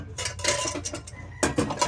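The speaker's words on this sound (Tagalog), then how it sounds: "Manghuhugas ako ng pinggan." Plates and dishes being washed by hand at a sink, with close clinks and scrapes of ceramic and cutlery, a busier clatter in the second half, and no voices.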